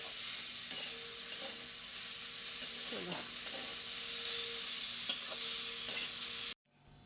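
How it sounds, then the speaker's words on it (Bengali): Food frying on a gas stove in a home kitchen, a steady close sizzle with occasional stirring scrapes and clinks, no talking, ending abruptly. "তাই ভাবছি যত কষ্টই হোক এখনই এই ভাজাটা করে নিই।"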